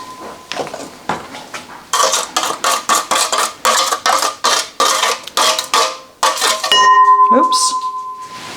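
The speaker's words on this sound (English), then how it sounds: "So I'm now going to add the pulp to the bowl" Fruit pulp being scraped into a bowl while juice is drained: a quick, close run of metallic clinks and scrapes of utensils on a bowl, ending in a ringing tone, with a voice speaking.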